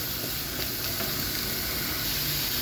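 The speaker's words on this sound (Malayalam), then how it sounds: "ഉള്ളി ഇട്ട് ഒന്ന് വഴണ്ട് നന്നായിട്ട് വഴണ്ട് വരണം." Onions sautéing in a pan for a home-cooked chicken curry, giving a steady, close sizzle and hiss that runs unbroken throughout with no talking.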